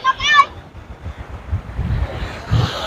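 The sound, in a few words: waves and flowing water at the shore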